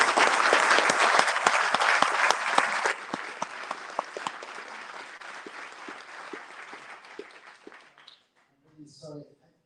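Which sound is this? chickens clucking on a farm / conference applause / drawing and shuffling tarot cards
conference applause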